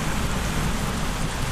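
Steady, dense rainfall hisses evenly and loudly throughout, a continuous close wash of drops with no pauses or voices.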